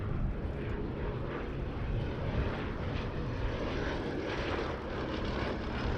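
A Westland Lysander, a Second World War propeller aircraft, drones overhead at an air show with a loud, continuous rumbling engine roar.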